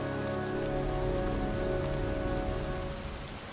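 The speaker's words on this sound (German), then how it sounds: "Es ist kalt, es regnet." Steady rain pours down in the video game Heavy Rain, a dense, even hiss of drops striking surfaces, with a low background hum beneath it that eases slightly near the end.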